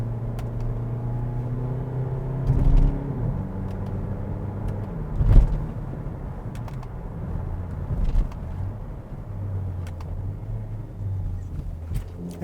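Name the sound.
2020 Kia Niro Hybrid driving and shifting gears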